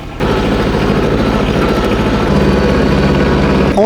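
A tractor engine starts up close and settles into a loud, steady chugging idle with a shift in tone partway through, heard in an orchard setting.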